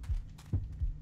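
Game heartbeat in Left 4 Dead 2: three low, muffled thumps in a slow steady rhythm, close and fairly quiet, with no voice over them.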